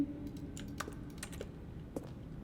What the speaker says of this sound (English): Each sound is a mix of a keyboard stroke and a synthesized tone.